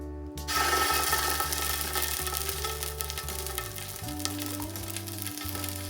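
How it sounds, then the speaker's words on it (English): Tomato paste frying in a pot, a dense, steady sizzle with stirring underneath, close and fairly loud, accompanied by a low mechanical hum that shifts pitch partway through. "So just stir it for about 1 to 2 minutes"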